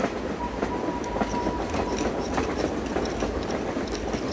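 Passenger train rolling across Canada, heard from on board: steady rumble with rhythmic clickety-clack of wheels over rail joints and a brief faint squeal, continuous and fairly close, no talk.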